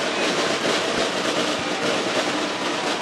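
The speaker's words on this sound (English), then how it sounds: "These fans for Illinois are stomping their feet." Little League baseball fans stomp their feet on the stands at a regional game, a loud continuous rumble much like a passing train, with no clear talk.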